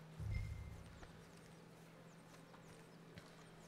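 Horse in the video game Red Dead Redemption 2 snorting and stepping, a soft burst at the start followed by faint clip-clop hoofbeats, quiet and close with no talk.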